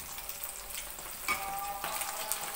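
Fish caught in the Mahakam River fries in a pan with steady, close sizzling and crackling, a few louder spits and pops cutting through midway.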